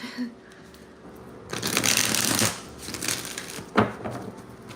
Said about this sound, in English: Wait, let me shuffle.